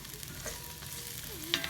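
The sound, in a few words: chunk of garlic sizzling and tossed in a frying pan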